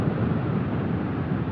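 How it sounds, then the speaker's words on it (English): Steady broadband wind rush buffeting the helmet of a rider on a Honda CBR500R motorcycle at highway speed on a windy day, a constant low roar with no voices. "I'd say today is pretty windy"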